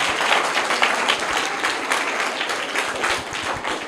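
Classroom audience at a children's quiz competition gives a student a dense, even round of clapping that stays steady and fairly close from start to finish.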